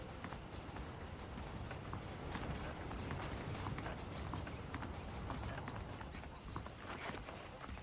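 Horses walk in the Red Dead Redemption video game, hooves clip-clopping in a steady, moderately quiet rhythm over a dense ambient wash of outdoor game noise.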